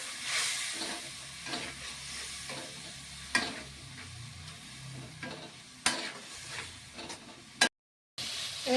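Spice paste (masala) for a kochur loti and shutki fish charchari fries and is stirred in a pan, making a continuous close sizzle broken by sharp scraping strokes, then a brief silence before it resumes.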